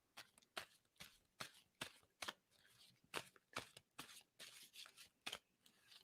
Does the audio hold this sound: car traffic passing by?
no